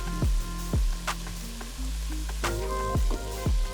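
Onion, celery and salt sizzle as they sweat in a pot for beef stew, a steady close frying hiss broken by several sharp stirring knocks against the pot.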